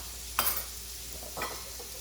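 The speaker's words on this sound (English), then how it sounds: "So we're just going to saute that garlic real quick" Garlic sautéing in a pan for a penne and salmon sauce, a faint low sizzle with two short stirring scrapes about a second apart.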